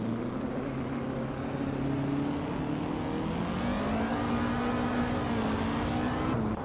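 Race car engines in a racing video game hum steadily, then climb in pitch as they accelerate, a continuous loud drone with no talking over it.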